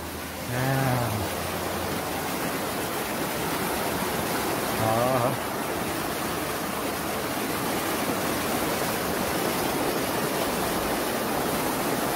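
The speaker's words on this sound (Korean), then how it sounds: "야, 폭포 멋있다." A mountain waterfall in Jeongseon, Korea, roars as a steady, broad rushing wash throughout, with brief exclaiming voices over it near the start and middle.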